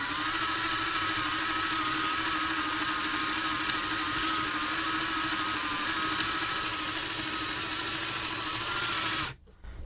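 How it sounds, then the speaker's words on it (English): Mechanism of a refurbished TOMY Daredevil toy motorcycle running, a steady buzzing motor whir with a faint mechanical rattle, continuous and even until it cuts off abruptly near the end. "The little film strip thing goes, the little motorcycle goes"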